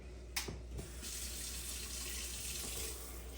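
A tap running steadily as something is rinsed under it, a constant close splashing stream after a couple of brief knocks at the start.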